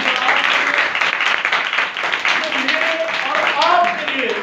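Congregation applauding at a Sunday church meeting in Pakistan, dense sustained clapping from a crowd with voices calling out over it, loud and continuous.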